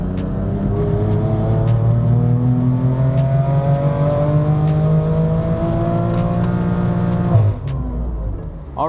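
A tuned BMW M3 F80 on a dyno run, its engine pulling up through the revs in one long loud climb that holds near the top, then cuts off sharply with a whoosh.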